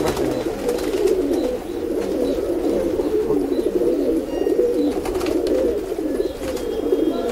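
Continuous low cooing from a group of pigeons nearby, overlapping throaty calls with no voices.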